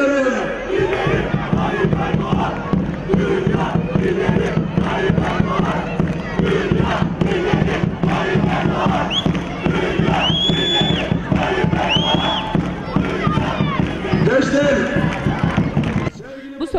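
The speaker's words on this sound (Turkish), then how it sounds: "Modern Evler sakinleri büyük alkış tufanı kopardı" Large crowd cheering and shouting with applause at an AK Parti political rally in Modernevler, İskenderun, a dense, loud, continuous roar with voices and a few whistles rising over it.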